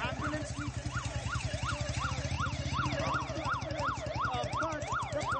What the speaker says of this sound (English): This is an ambulance that needs to pass because, there is a patient inside.